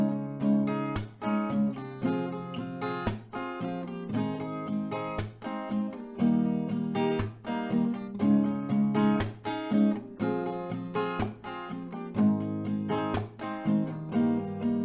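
An acoustic guitar strums a chord progression, one strumming round per chord, in a steady rhythmic pattern of bright, ringing strokes, close and clear with no voices.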